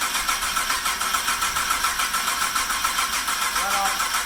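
A fuel-primed car engine that may be flooding runs with a steady, pulsing beat, catching its revs and then dropping out of sync, loud and close throughout.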